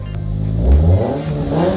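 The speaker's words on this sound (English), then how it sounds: "you rev your car cold" A cold 2022 Subaru BRZ engine is revved once, the pitch surging up then falling back before a smaller second blip, loud and close with no one speaking.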